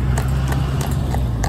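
A horse trots along a town road in traffic, its hooves clip-clopping in a quick, regular beat over a steady low rumble of nearby vehicles.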